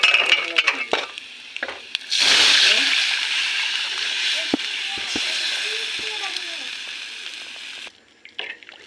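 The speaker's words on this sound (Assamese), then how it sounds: "এতিয়া দালি আৰু কচুখিনি এড কৰি দিম" Lentils and taro dropped into hot oil with fried onions burst into a loud sizzle and splatter, a few clinks of utensils around it, the hiss holding steady for several seconds before cutting off.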